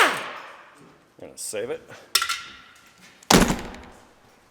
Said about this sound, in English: What we're going to do next is take this one Torx out. I'm going to just use their impact.